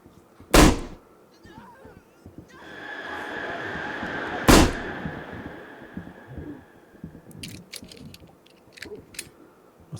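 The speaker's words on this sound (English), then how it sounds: "That's 6 shots fired." Gunshots in the zombie video game Into The Dead: two sharp, loud single shots several seconds apart, with a lingering eerie tone and low rumbling between them and a few softer clicks afterward.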